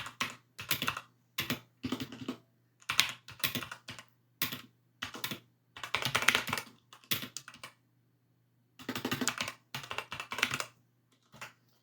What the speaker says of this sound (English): I'm just going to write that now.